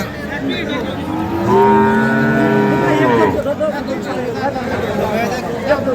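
A bull lets out one long, loud, drawn-out moo close by while people chatter in the background at a cattle market.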